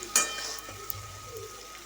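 Tomato goes into mashed lote fish frying in a pan, making a quiet sizzle with a sharp clatter at the start and a few light stirring knocks.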